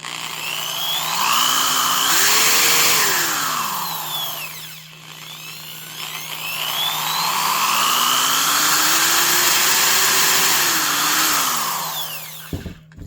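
A corded Porter-Cable 3/8 inch drill, a 6.5 amp PC600D, spins up and down twice under its variable-speed trigger, its whine rising and falling loudly with a steady motor hum, a brief clatter as it stops near the end.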